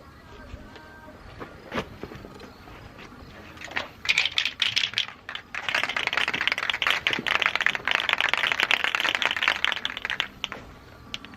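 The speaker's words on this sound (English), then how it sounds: "I'm gonna go grab the can of primer, shoot the first coat of primer on this real quick" An aerosol can of primer lays down a first coat over taped-off areas, giving a loud, continuous rasping hiss that starts in short bursts and then runs steadily for several seconds before cutting off.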